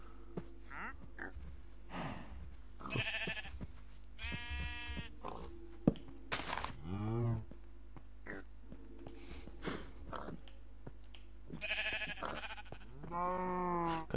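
Cows and other farm animals in the video game Minecraft, several repeated moos and bleats in short bursts over a steady low game hum, some louder and closer than others.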